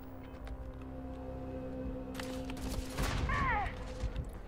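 Shrapnel grenades going off in the video game Starfield, a cluster of sharp bursts and crackling blasts in quick succession amid ongoing combat noise, with brief talking nearby.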